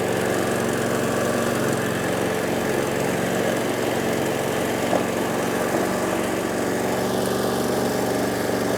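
A petrol mulching lawn mower, the Benzin Mulchmäher PM5, runs steadily close by with a constant loud engine drone and buzzing hum and no speech.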